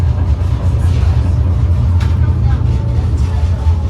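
Steady low rumble of a street tram rolling through Lisbon, with constant engine and wheel noise and faint rattling throughout.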